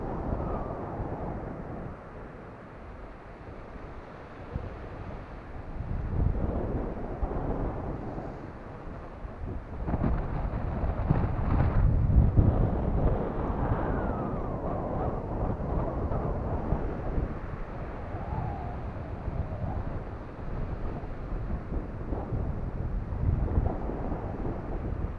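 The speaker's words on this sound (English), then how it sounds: "Appear to have some wind." Blustery wind buffets the microphone on a rainy beach at Hope Cove, a continuous low roar that swells and eases in gusts over twenty-five seconds, close and fairly loud with no voices.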